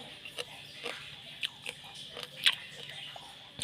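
Close, crisp bites and crunchy chewing of a spicy pounded corn and sticky-rice salad, with sharp irregular crunches over a quiet background and no talk.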